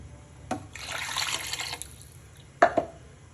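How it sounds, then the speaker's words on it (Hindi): Water poured from a glass into a cooking pot of soaked rice for Kabuli pulao, a short splashing pour followed by a couple of sharp drips and clinks. "मैं 2 गिलास पानी इसमें ऐड करूंगी।"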